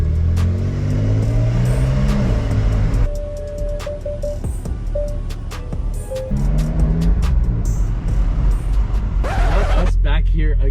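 A Porsche 911 Carrera S of the 992 generation drives through tight European streets, its engine a steady low drone that rises and falls with gear changes, loud and close throughout, with a person talking over it.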